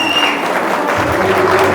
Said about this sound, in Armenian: դե հիմա թողել է հարսիկի կողմը ծափեր տան